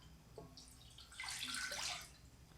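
Water is poured into a pan as the first step of a pickle brine, 2.5 cups measured in a home kitchen. It makes a soft, faint splashing rush that swells in the middle and then tapers off, with no talk.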